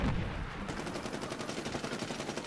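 Rapid automatic gunfire in the shooter game Medal of Honor Warfighter, a fast, even rattle of shots running steadily throughout at moderate loudness, with no voices.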